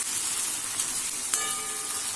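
Curry leaves fry in hot oil in a kadhai while making kanda batata poha, a steady close sizzle with a brief sharper crackle partway through.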